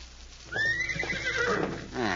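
A horse whinnies loudly nearby with a rising, wavering neigh, while hooves clip-clop faintly underneath; no one speaks.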